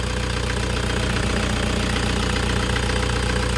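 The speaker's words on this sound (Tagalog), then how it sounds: "one click na one click yung kanyang makina yung start" A Toyota Hiace GL engine idles steadily and close by, a continuous even rumble with a faint rhythmic ticking running through it, no voices over it.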